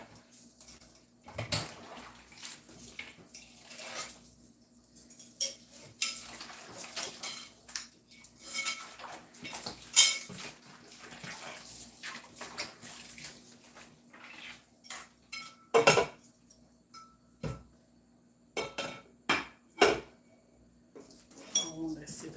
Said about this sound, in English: At least my dishes will be washed.